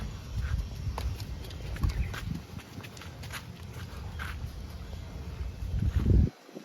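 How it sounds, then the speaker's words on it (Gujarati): A newborn foal leaps and prances, its hooves striking the ground in quick, irregular clip-clops and thuds at close range, with a heavier burst of hoofbeats near the end and no voices. "વસેરો ઠેકડા મારે"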